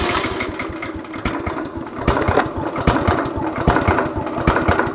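A stump grinder engine running on wood gas runs steadily with a rough, uneven chug, close and fairly loud throughout, with no talk over it.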